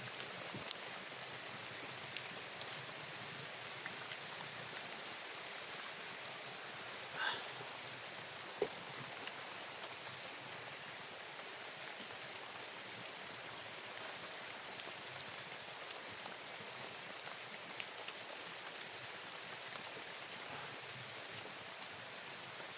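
Steady, faint rain hisses continuously with occasional soft drop ticks, heard from a distance.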